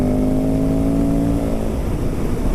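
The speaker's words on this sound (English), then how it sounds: "It rips this bike and it goes from them gears like butter." A 2003 Yamaha WR450F dirt bike engine runs close and loud, a deep throbbing tone holding steady then roughening slightly as revs shift.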